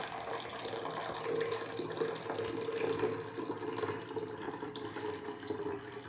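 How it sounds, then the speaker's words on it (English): Steady trickle of distilled water pouring into the reservoir of a HumminGuru ultrasonic vinyl record cleaner, a continuous splashy hiss at moderate level with no talking. "You simply pour this water into the reservoir"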